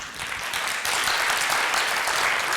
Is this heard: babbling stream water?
no